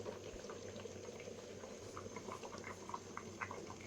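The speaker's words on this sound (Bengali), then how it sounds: "ও চাল ফুটতেছে, পোলাওয়ের চাল।" Polao rice boiling in a cooking pot, a steady soft bubbling and popping simmer heard close and quiet, with no talking.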